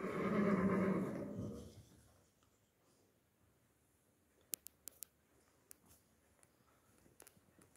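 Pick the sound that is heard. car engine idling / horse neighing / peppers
horse neighing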